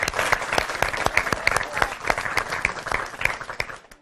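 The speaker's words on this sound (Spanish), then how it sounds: "Aplauso de nuevo, por favor." A small audience at an education event claps together, with individual hand claps standing out as sharp, rapid snaps over a lighter patter, fading away near the end.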